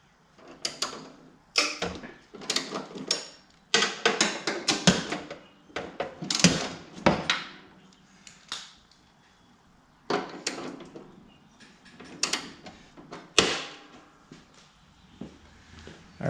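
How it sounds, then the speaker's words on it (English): Bolts on a John Deere GX75 mower deck are loosened and turned with a hand tool, giving bursts of clicking and scraping metal at close range, broken by short pauses, with no one talking. "So I'm going to loosen these 3 and start rotating that and see what happens."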